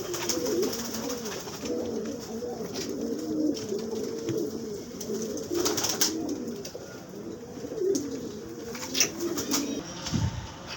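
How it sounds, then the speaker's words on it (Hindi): Pigeons cooing at a hilltop mosque shrine, repeated low soft coos overlapping with occasional faint wing flutters and brief chirps nearby. "इहदे विच बैठन कबूतर।"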